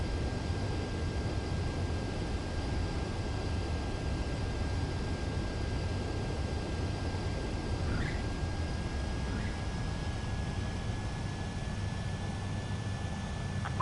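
A fighter jet in the video game Ace Combat 7 comes in to land, its engine a constant broad roar with a thin steady whine running through the whole stretch and a couple of brief chirps midway.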